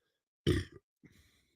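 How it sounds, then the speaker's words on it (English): A loud burp from a man hosting a live sports post-game show, a short, strong belch followed by a fainter, trailing second release, heard alone without talk. "I got to burp again."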